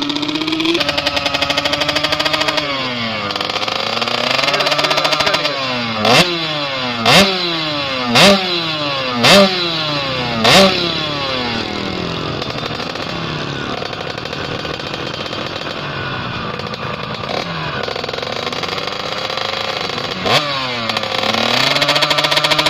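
Motorcycle engine being test-revved up close, loud and steady with a run of sharp throttle blips in the middle that rise and fall one after another, then settling back to a rough running drone.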